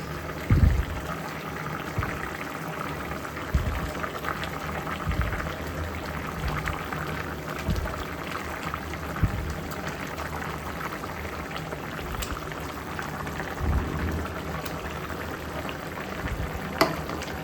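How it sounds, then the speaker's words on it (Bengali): A pot of fish curry at a rolling boil, a steady bubbling and gurgling texture held throughout, close and moderately loud, with occasional soft knocks. "তরকারিটা বলক চলে আসছে, এখন আমি হচ্ছে যে মাছগুলো দিয়ে দিব"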